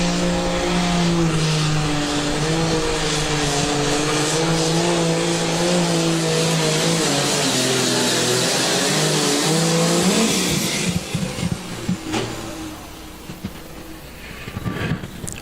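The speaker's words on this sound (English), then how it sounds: "High RPMs coming right out of the hole for Michael Baker." John Deere pulling tractor at a tractor pull in Baraboo, Wisconsin, its engine screaming at high RPM in a loud, sustained roar that wavers in pitch, then cuts back to uneven sputtering near the end.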